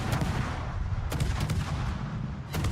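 Warship main guns firing in World of Warships, a series of sharp booming salvos spaced irregularly over a dense low battle rumble, loud and close.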